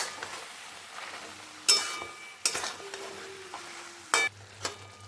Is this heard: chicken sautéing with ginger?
yes